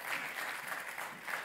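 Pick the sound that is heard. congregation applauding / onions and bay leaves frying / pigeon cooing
congregation applauding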